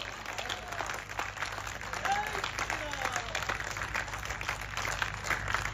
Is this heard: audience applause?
yes